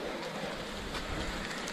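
Steady rain falls on the Sela Pass mountain road near Tawang in January, a dense even hiss with no break.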